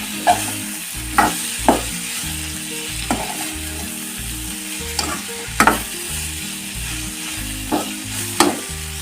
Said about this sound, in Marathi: सतत हलवत दोन मिनटं तोंडली तेलामध्ये व्यवस्थित फ्राय करून घ्यायची